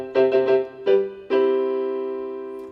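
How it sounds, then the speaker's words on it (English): Electronic keyboard on a piano sound: a quick run of plucked tones, a pause, then a final note left to ring and fade, played alone. "Now when we switch on the keyboard, it sounds like this."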